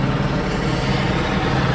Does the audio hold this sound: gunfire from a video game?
no